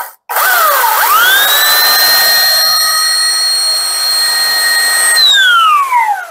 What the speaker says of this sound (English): I'm actually going to shave down the tip a little.